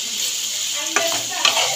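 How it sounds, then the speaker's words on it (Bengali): Cut beans and carrots sizzle steadily in a pan while two short scraping stirs cut through the hiss, with no voices. "এটাকে এবার নাড়াচাড়া দিয়ে ভালো করে ভেজে নিতে হবে।"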